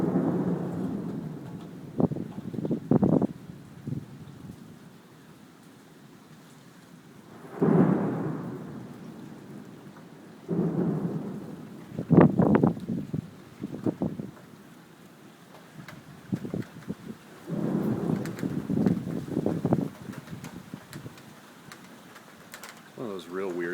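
Thunder from a storm with a passing tornado booms in several low, rolling bursts spread through the clip, separated by quieter stretches of rain and wind, with a person talking at times.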